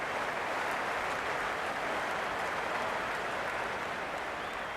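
Steady crowd roar and cheering at a Cricket 26 video game match between Quetta Gladiators and Chennai City, a dense continuous wash of stadium noise holding at an even level throughout with no voices standing out.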